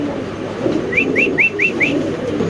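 A breeding pair of pigeons in a loft gives a run of five short, evenly spaced whistling coos, near and moderately loud over a steady murmur of loft background noise.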